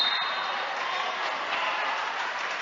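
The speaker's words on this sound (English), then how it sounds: "The crowd is getting into this game." Crowd noise at a Marinette at Peshtigo boys high school basketball game, a steady broad roar of cheering and clapping filling the gym throughout without a break.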